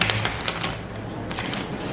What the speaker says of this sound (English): I'm gonna shuffle the deck.